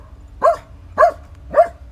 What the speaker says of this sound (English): So now dog want to bark at me.